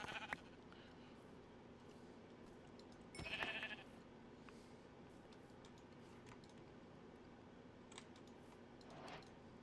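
Sheep in the video game Minecraft giving a short bleat midway, faint against a quiet background with light keyboard typing clicks scattered around it.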